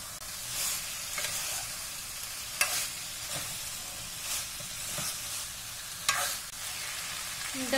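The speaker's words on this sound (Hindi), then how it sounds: "तड़का हमारा पक चुका है, अब हम डाल देंगे इसमें फ्राई की हुई गोभी।" Steady oily sizzling and hissing from a hot pan as fried cauliflower is added to a cooked tempering, punctuated by occasional stirring clatters, with no talking.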